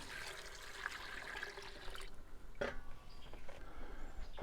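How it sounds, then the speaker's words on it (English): Beef broth poured into a stew pot over indirect heat beside an open fire, a steady liquid pour and splash with a few brief drips, close and moderately loud, with no talking. "We'll add our beef broth."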